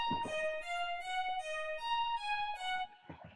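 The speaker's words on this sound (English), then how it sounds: "I've layered two synth bells." Two layered synth bells built in FL Studio, drenched in heavy reverb, play a slow sequence of sustained, shimmering tones alone, with a softer low thump or two near the start and end.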